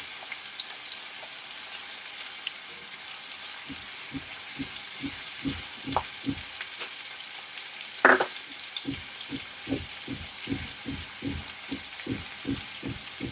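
Steady sizzling of chopped garlic frying in a hot pan, with a faint crackle throughout and a soft rhythmic tapping of stirring in the background.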